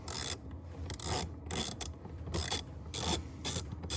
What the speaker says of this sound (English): Next, we're going to go ahead and loosen this clamp in order to take this hose off.